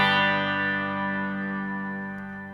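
A Strymon Timeline pedal plays a pitch-shifted, modulated delay on a sustained guitar chord. The rich shimmering tone rings out and slowly decays, alone with no talking.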